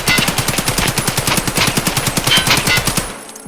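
A fast, continuous burst of automatic AK rifle fire with 7.62x39 PS rounds in a video game, loud and close, the shots running evenly before cutting off abruptly.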